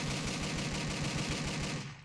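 Rapid gunfire from Driv3r, a dense continuous stream of shots at machine-gun pace, loud and close for about two seconds and tailing off slightly at the end, with no talking.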